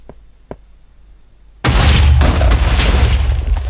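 Two faint clicks are followed by a single loud, close explosion in Minecraft, whose roaring boom and crackling debris sustain for the remaining seconds.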